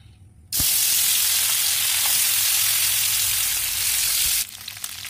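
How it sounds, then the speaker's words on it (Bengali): Marinated fish dropped into hot oil sets off a sudden loud, steady sizzle that holds for about four seconds and then cuts back to quiet. "মাছটা মেখে নিয়েছি, এবার আমি তেলে দিয়ে দেবো।"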